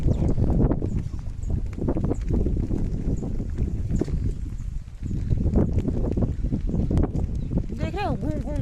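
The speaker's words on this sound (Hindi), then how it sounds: "कितनी तेज हवा चल रही है यहाँ" Strong wind blows continuously as a loud, rumbling buffeting outdoors during snowfall, with someone speaking over the gusts.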